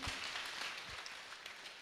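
A church congregation at a PCEA Karatina Parish women's guild gathering claps for Jesus in a short, dense burst of applause with many hands together, steady and fairly close.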